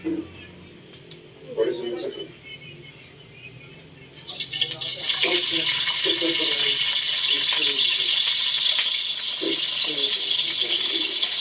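Water runs steadily from a tap into a container of dried salted fish for soaking, for several seconds, loud and close, after a few brief clicks and faint background voices.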